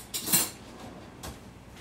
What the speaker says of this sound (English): Let me get another spoon for the mayonnaise.